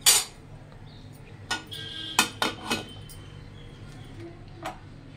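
Cooked rice being served, with utensils and pots clinking: a sharp clatter at the start, then a few scattered metallic taps and clinks, fairly close over a quiet room hum.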